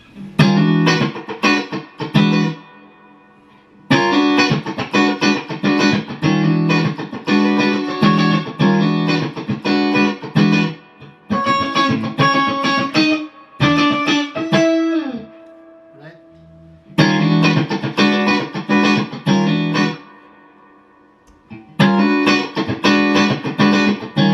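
Electric guitar with neck and middle pickups through a Two Rock Classic Reverb amp, with chorus and delay; loud strummed chords and riffs in bursts with brief pauses between phrases, alone without talk.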